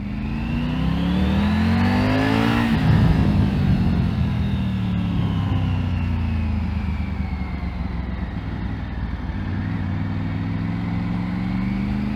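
A Triumph Tiger 900 Rally Pro's engine is heard while riding, revving up in rising sweeps, easing off, then pulling through the gears again with a steady drone and wind noise.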